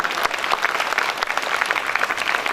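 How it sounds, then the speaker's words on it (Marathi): A crowd at a school Constitution Day program applauds the students with brisk, dense clapping that runs throughout. "या सर्वांसाठी जोरदार टाळ्या होऊ द्या"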